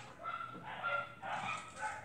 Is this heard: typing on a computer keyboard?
no